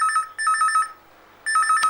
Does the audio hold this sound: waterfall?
no